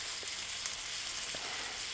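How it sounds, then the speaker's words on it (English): A jerk hamburger patty fries in a pan with a steady, close sizzle and faint crackles, alone without talk. "Don't press the burger while it's frying"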